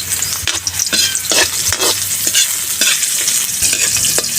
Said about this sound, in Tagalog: Sabay lang din natin yung ating sibuyas at paminta.